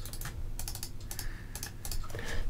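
Rapid clicks from a computer mouse and keyboard while working in GameMaker, a quick irregular run of sharp, close taps lasting a couple of seconds over a low background hum.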